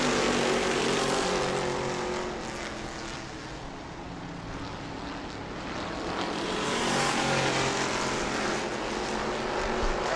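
Super Stock race cars roar around the New Smyrna track, a loud, sustained engine drone that swells, dips as the pack passes, then builds again.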